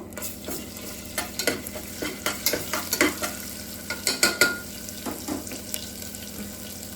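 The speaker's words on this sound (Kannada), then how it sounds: "ನೀಟಾಗಿ ಅದು ಫ್ರೈ ಆಗಬೇಕು" Oil frying in a pan, with a steady sizzle broken by short bursts of stirring and scraping, loud and close, and no voices.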